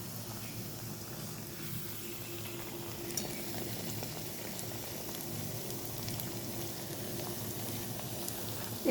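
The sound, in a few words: jalebi frying in a pan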